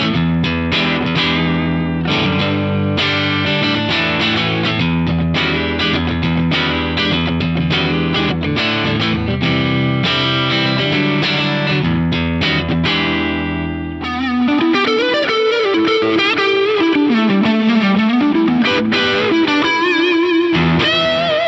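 Heavily distorted electric guitar through blended DynaCab cabinet simulations with an align offset widening the stereo image, played loud and dense with chords and riffs, then shifting to a sustained lead line with bends, alone without talking.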